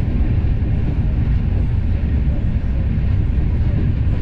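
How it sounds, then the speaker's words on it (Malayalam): An AC double decker express between Jaipur and Delhi runs at speed, heard from inside as a loud, steady low rumble and rolling drone with no distinct clacks. "ട്രെയിൻ ഇപ്പം നല്ലൊരു സ്പീഡിൽ പോകുന്നുണ്ട് കേട്ടാ."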